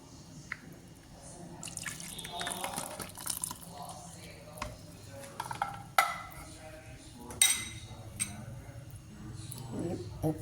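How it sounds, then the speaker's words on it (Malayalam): Water splashes and trickles while a mixer jar is rinsed and poured out in a home kitchen, during preparation of a curd-based vegetable curry, with a person talking over the steady running and dripping water. "ഇനി നമുക്ക് മിക്സി കഴുകി ഇത്തിരി വെള്ളവും കൂടെ ഒഴിക്കാം."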